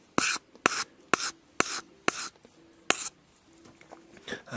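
A sharpened knife edge being smoothed of rough spots, heard as a series of about eight short, crisp rasping strokes in an irregular rhythm, close and fairly quiet with small pauses between them.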